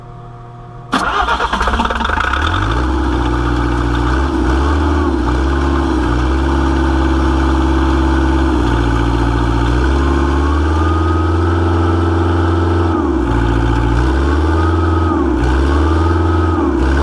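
Bobcat 1600 wheel loader engine cranking and catching after a second of silence, then running loud and close at a rough, steady idle with slight pitch swells for the rest of the clip.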